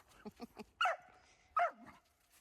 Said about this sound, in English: He sees a dog in the backyard and he's calling him.